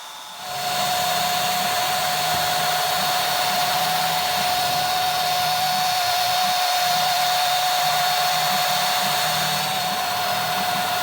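A small rotary polisher with a nano polisher extension runs steadily and close, giving a continuous high whine with a strong tone. It starts up in the first second and continues without a break.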